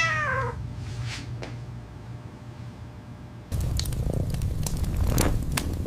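A cat meows a few times, short mid-pitched calls at close range, and a later stretch brings rustling and crackling handling noise around a couple more brief cries.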